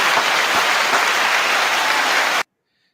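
Loud, dense audience applause on a talk show, steady and close, that stops abruptly near the end and leaves silence.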